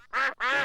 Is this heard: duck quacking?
yes